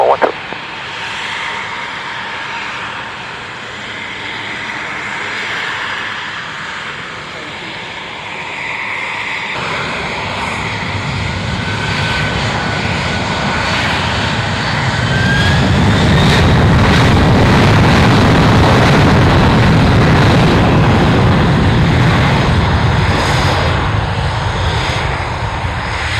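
Airplane taking off on departure day at an airshow: engine roar builds from a steady idle hum to a loud, full-throttle rumble as the aircraft accelerates down the runway, with faint radio chatter in the background.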